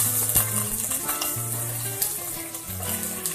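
Chopped ginger and garlic dropped into about three teaspoons of hot oil, giving a busy crackling sizzle with spatula clinks and stirring scrapes, close and continuous, with faint background music.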